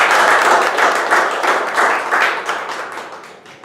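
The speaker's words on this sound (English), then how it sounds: "I would like everyone to give a big round of applause." An audience at a meeting claps and applauds in a dense, close burst that gradually fades away.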